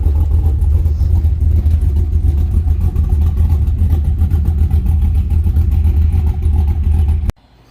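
A GMC Envoy engine roars steadily at high revs with a deep, loud exhaust rumble that cuts off abruptly near the end.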